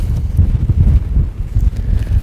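Strong wind buffets the microphone outdoors in Wyoming in a loud, continuous low rumble with gusty surges and no voices.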